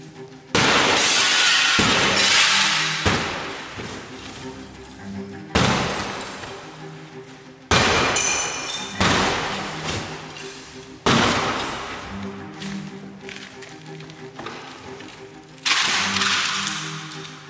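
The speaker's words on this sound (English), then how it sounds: "Now we'll attack the glass." Burglar-resistant window glass in a class 3 window frame is struck repeatedly, a series of loud, sharp shattering impacts at irregular intervals, each followed by a crackling, ringing glass decay, with no talking.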